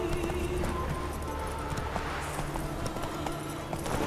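Horse galloping in The Witcher 3, a steady clip-clop of hooves running continuously under a dense layer of game ambience, with faint rhythmic hoof strikes throughout.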